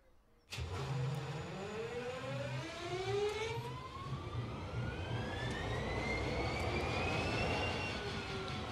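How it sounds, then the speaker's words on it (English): An EMD SD40-2 diesel locomotive engine in Train Sim World cranks to life with a sudden loud onset, then settles into a steady rumble under a whine that climbs slowly in pitch as it spools up. "it looks like we have a good start with the engine"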